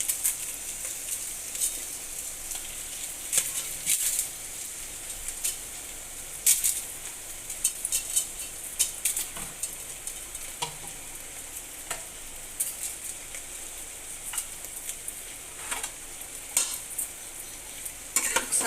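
Fish pieces frying in a pan, likely a tamarind fish stew, with continuous sizzling and repeated scraping and stirring scrapes of a spatula throughout, close and moderately loud.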